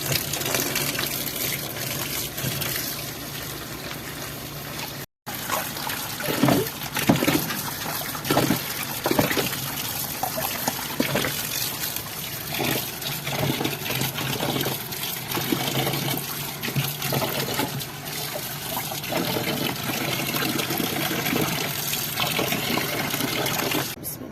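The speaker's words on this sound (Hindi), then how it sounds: "ये रेत इतनी जालिम है, ये निकलती ही नहीं है जब तक इनको खुले पानी में मल मल के ना धोएं।" Mash daal lentils being washed by hand under running water, rubbed to loosen sand, with a steady gushing, splashing stream and a brief break near five seconds, no talk.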